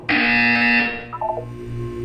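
Buzzer in the video game Portal 2, a loud harsh electronic tone lasting under a second, followed by a few quieter stepped beeps fading out, with no speech.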